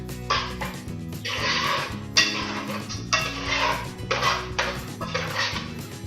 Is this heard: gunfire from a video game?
no